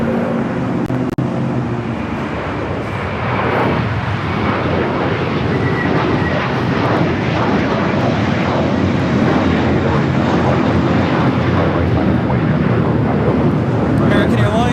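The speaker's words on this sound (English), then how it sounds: "American Airlines 1024 taking off to Orlando on the A321" An American Airlines Airbus A321 taking off from LAX bound for Orlando, a sustained loud jet roar building and holding steady throughout, with traffic noise and faint voices in the background.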